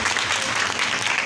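Loud, dense applause for two people at a Sunday church meeting: a sustained wash of many hands clapping at once, with no break for its whole length.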